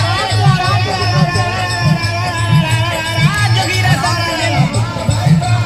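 A dense crowd at a village Holi celebration, with a steady hubbub of many voices and a regular thumping beat running underneath throughout.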